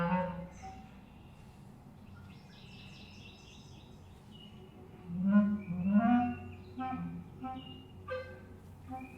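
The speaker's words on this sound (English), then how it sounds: "That's a catbird." Recorded gray catbird calls play back in short mewing and chattering phrases, a few louder harsh notes in the middle, over a quiet hum with faint other bird sounds.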